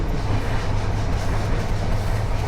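Steady low rumble of the Rupashi Bangla Express picking up speed after leaving Jessore station, a continuous close rolling drone without speech.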